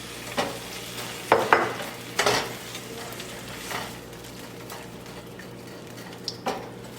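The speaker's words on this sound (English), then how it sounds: "Mix it properly and let it boil." A spoon stirring sugar into a Mongolian beef sauce in a pan over low to medium heat, with several sharp scrapes and clinks against the pan over a quiet sizzle.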